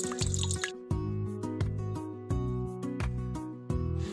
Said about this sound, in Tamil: இப்போ நம்ம வந்து தண்ணி ஊற்றிக்கலாம்